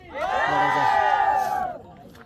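Crowd of people at Ratangad fort on a trek, giving one loud, close cheer of many voices that swells and then fades within about two seconds.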